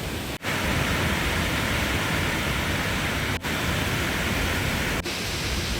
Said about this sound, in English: I can already feel the spray of the waterfall